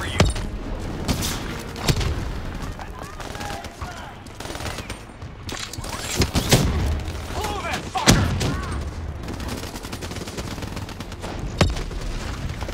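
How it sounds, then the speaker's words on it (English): Explosive charges bringing down tunnel supports in a Black Ops 3 mission in Cairo, heard as a run of sharp booms and bursts mixed with gunfire and thuds, close and loud, with voices talking over the action. "Detonation confirmed."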